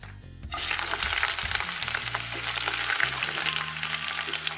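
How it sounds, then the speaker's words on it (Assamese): Sliced onions go into hot oil for a chicken curry: after a brief quiet moment a loud sizzle bursts up and then holds as a steady crackling fry, with no talking. "তেল গৰম হৈছে আৰু মই পিঁয়াজখিনি দি দিম"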